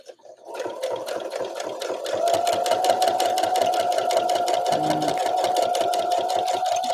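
Domestic sewing machine top-stitching with a zipper setup, steady fast mechanical chatter of the needle running close and continuous after a brief start-up.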